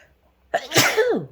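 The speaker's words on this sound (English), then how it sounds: "I'm about to sneeze." A single loud, close sneeze with a sharp intake of breath followed by a forceful burst.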